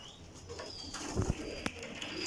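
Pigeons coo softly nearby with low, rounded calls in a short burst, among other birds kept for sale, with a little background noise.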